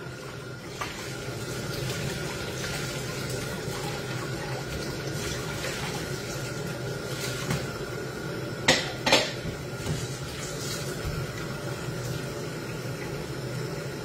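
Used plates and dishes being washed by hand at a sink, with steady running water and occasional louder clinks and clatters of crockery, close by.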